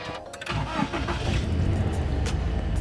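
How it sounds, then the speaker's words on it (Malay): A Toyota GT86 engine cranks briefly and catches, then settles into a steady, loud idle rumble close by. "Start dulu enjin."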